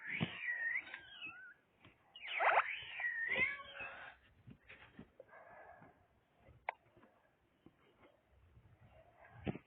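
A cat in a video game meows several times, drawn-out and whiny, with short gaps and quieter mewing later, sounding thin and slightly processed.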